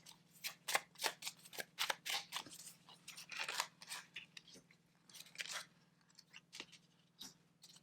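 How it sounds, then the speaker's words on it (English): Tarot cards are shuffled, flipped and laid out on a table in a quiet room, giving a run of crisp, close papery snaps and slides in irregular bursts with a steady low hum beneath. "And let me open some more cards for you."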